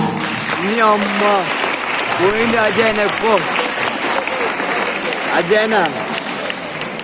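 Audience applause at a school principal's speech during a panel inspection: dense, steady clapping fills the whole stretch, with voices rising over it in several bursts.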